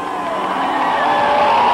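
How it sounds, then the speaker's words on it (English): A racing crowd at Indianapolis cheers and roars as Jeff Gordon drives past, a broad, steady wash of voices that swells slightly toward the end. "Listen to the crowd as they acknowledge Jeff Gordon when he goes by"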